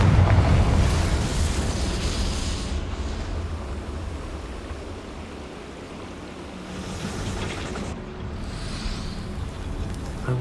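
A Confringo fire spell explodes in Hogwarts Legacy, a loud burst of crackling blast and rumbling roar at the start that fades into a whooshing, surf-like wash, with a second, softer swell of blast noise later.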